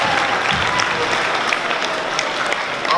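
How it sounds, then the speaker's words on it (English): Audience applause at a community meeting, a steady dense patter of many hands clapping close by, sustained throughout with no talk over it. "could everyone please give him a round of applause"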